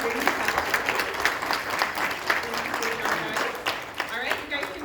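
Audience clapping for children with perfect attendance at a Vacation Bible School graduation in a Baptist church, steady applause from a room of parents, with voices mixed in underneath.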